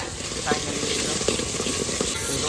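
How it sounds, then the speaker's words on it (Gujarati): Vegetable curry with onions cooks in a pan, a steady close sizzle and frying hiss with occasional stirring scrapes throughout. "અમારા રિંકુબેન છે ને શાક પકાવી રહ્યા છીએ હવે અત્યારે"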